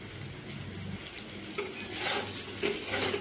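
Paneer pieces fry in a pan over low to medium heat, giving a steady close sizzle broken by occasional stirring and scraping, with no one talking.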